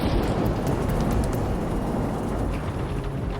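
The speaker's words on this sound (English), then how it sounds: "The rain became even more intense, the turbulence more intense, and the thunder was more frequent." Heavy rain pours in a storm around an airliner approaching a runway, with a dense, loud roar and low rumbling like thunder running continuously throughout.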